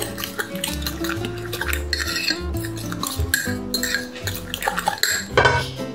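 A spoon stirs and scrapes through chopped broccoli and other ingredients in a metal bowl for roti rolls, a continuous clattering mix of close utensil clinks and scraping.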